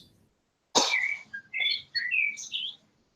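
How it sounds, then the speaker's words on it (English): A sharp cough-like burst is followed by several short, high bird chirps in quick succession, close and fairly faint, with silence around them. "there's birds chirping, which might ruin this"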